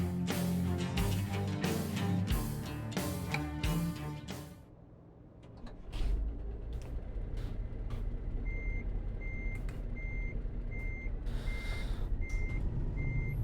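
A truck in American Truck Simulator sounds steady reversing beeps, evenly spaced over a low, continuous diesel engine rumble, after a burst of music at the start.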